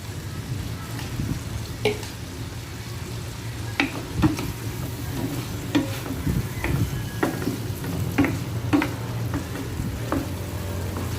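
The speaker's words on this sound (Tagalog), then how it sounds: "Yan, halu-haluin lang natin siya." Spicy buttered garlic shrimp with hot sauce stirred in a pan, a low, bubbling sizzle punctuated by repeated sharp clacks of a utensil against the pan.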